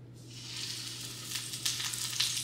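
A wrap fries in olive oil in a pan over medium heat, giving a steady close sizzle that swells slightly as it goes.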